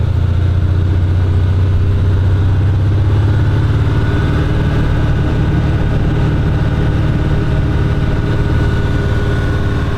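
Cummins 5.0L V8 diesel in a Nissan Titan XD runs at a steady idle, a loud, continuous low rumble with a mid-range engine drone that holds even throughout.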